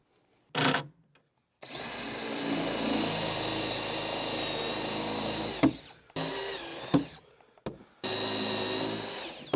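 Power drill driving a countersink bit into wood while building an entryway storage bench, with loud sustained whirring bursts: a short one, a long steady run, then several brief stop-start passes close by.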